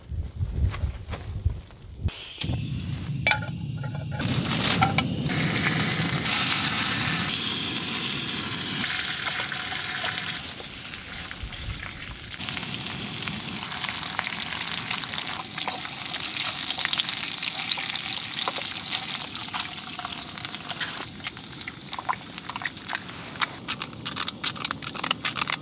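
Bacon frying in a pan at a winter camp during a snowstorm, a loud continuous crackling sizzle with intermittent scraping and stirring sounds, close up and steady throughout.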